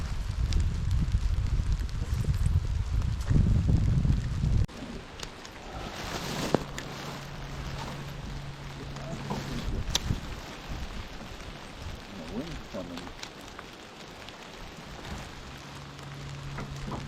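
Rain falls while fishing from a boat on the water, with a soft steady patter and hiss on the surface, a rumble of wind in the first few seconds, then quieter dripping with a faint low hum.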